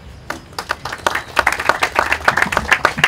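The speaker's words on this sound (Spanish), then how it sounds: "El aplauso para él." An audience claps for a speaker at a presentation on a used cooking oil collection program in Miraflores, Peru, the applause starting sparse and building into brisk, uneven clapping at close range.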